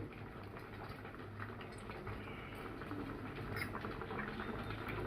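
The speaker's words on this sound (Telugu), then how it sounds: "ఈ నెయ్యి కొంచెం మరగాలి నెయ్యి అయితే మరిగింది" Cow ghee simmers in a pot with a faint, steady bubbling and soft popping patter, quiet and continuous throughout with no voices.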